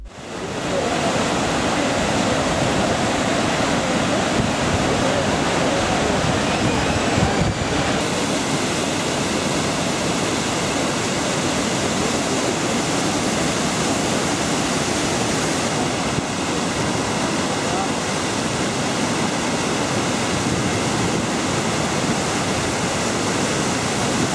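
The Iguazu waterfalls in Brazil roar in a loud, dense, continuous rush of falling water that fills the whole stretch with no voices.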